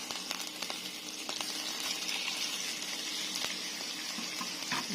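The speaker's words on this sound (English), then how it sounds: "it's just going to lightly fry away" Turkey burgers fry in a pan with a steady, close hiss and faint crackle that runs unbroken throughout.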